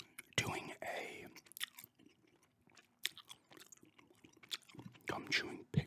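Gum being chewed close to the mic, with soft wet smacks and crunchy bites in an irregular rhythm, some louder bursts, and quiet breathy sounds between chews.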